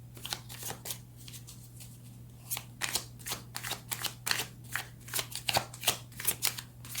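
Tarot cards shuffled by hand for a reading, close and crisp, with rapid riffling bursts and flicks repeating in an uneven rhythm over a low steady hum.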